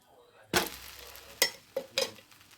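A dosa cooking on a pan with a little oil added gives four short, sharp sizzling bursts over a quiet background, close by, with no speech.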